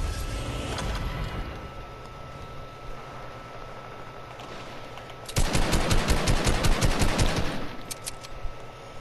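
Gunfire in a shooter video game: distant rattling bursts at first, then a loud, rapid automatic volley lasting several seconds.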